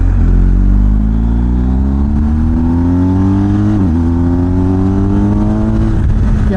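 A BMW R 1250 GS motorcycle engine accelerates steadily downhill, its rising tone climbing continuously with one brief dip near the four-second mark as it pulls on, loud and close throughout with no talking.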